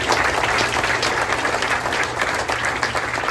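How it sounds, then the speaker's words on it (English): Steady audience applause for restaurant staff at a luncheon held in a Minnesota chart house, dense and continuous clapping from a seated crowd filling the room at close range. "How about a nice round of applause for this great staff?"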